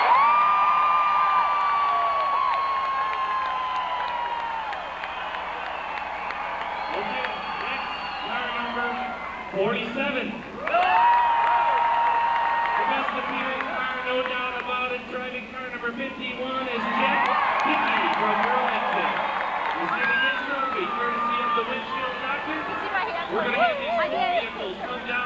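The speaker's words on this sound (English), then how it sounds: "Please applaud for one car only." Crowd cheering, whooping and clapping in the grandstand at a 1992 Essex, Vermont demolition derby for car number 51, a broad swelling roar with an announcer's amplified voice talking over it.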